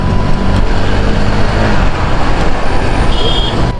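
Loud, steady road traffic rumbles close by, with buses, trucks and cars passing continuously and a brief air-brake hiss near the end, no talking.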